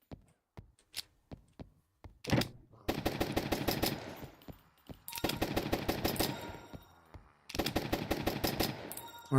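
Gunfire in the zombie shooter Zombiehood: a few single shots at first, then three long bursts of rapid automatic fire, loud and close, separated by brief pauses.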